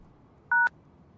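A single short telephone dial tone burst, two steady pitches held together for about a fifth of a second, close and clear against a quiet background with no talk.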